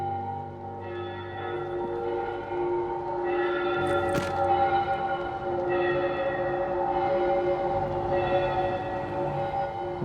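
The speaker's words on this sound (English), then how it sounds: "Oh, and the bells start ringing." Bells ringing in the VR game Saints and Sinners, sustained resonant tolls layered and overlapping at moderate loudness, with a sharp thump near the middle and a low background rumble.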